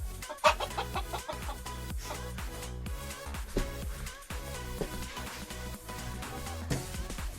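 Bantam hens clucking and cackling repeatedly in a busy farmyard, close by, with continuous overlapping calls and some background bustle.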